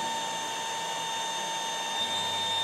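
An Ultenic U10 cordless stick vacuum runs at maximum speed, giving a steady, even motor whine with a high-pitched tonal hum. It is heard alone at moderate loudness, with no voices.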